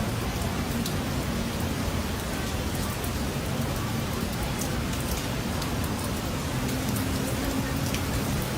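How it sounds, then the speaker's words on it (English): Heavy New Year's Day rain pours down in San Diego, a constant dense hiss of drops striking surfaces, steady and close with no talk. "Heavy rain soaked the city on New Year's Day"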